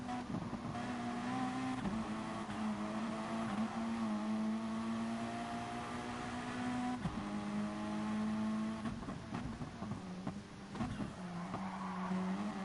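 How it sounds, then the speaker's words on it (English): A race car in a GR3 Evo Cup race sings a steady engine drone, and its tyres squeal and slide as the brakes are dabbed into a corner, with sharp scrubbing bursts toward the end. "and you'll hear the tyre squealing."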